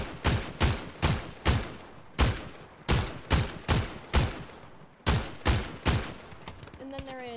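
Sharp gunshots ring out in a Fortnite aim-training session, about a dozen sharp cracks in a quick, uneven rhythm with short reverberant tails. A brief electronic chime comes at the end.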